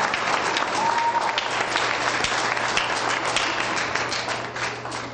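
A middle school cafe night audience applauds after a student's singing performance. Dense, loud clapping from many hands fills the room steadily and alone, tapering slightly at the end.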